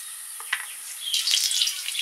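Dried red chillies, whole garam masala spices and cumin seeds tempering in hot oil for chicken do pyaza, a steady close sizzle with a few crackles that swells into brighter spitting partway through, with no voices.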